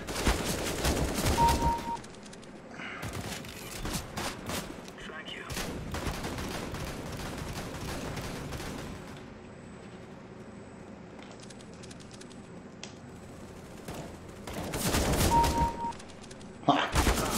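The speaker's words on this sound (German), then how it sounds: "Wo kommen die Schüsse her?" Gunfire in a video game sounds in repeated bursts of shots, loud at the start and again near the end, with quieter stretches of game noise in between.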